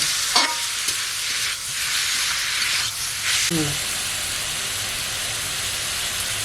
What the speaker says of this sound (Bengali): এই চিকেন কুচি দেবো ভালো করে কষে নেব